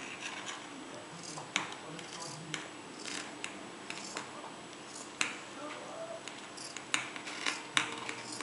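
Scissors snipping through fabric to cut a circle, a series of sharp, close clicks and snips at irregular intervals over a quiet room background.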